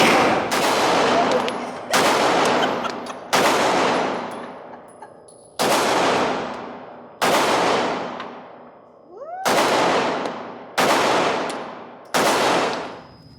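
Nine loud gunshots ring out at a shooting range, spaced roughly every one to two seconds, each a sharp crack with a long decaying echo.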